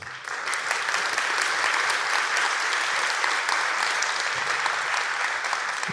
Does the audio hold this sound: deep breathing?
no